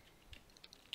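Quiet, light clicking of a computer keyboard as a few keys are tapped in an uneven rhythm, faint and close with no talking.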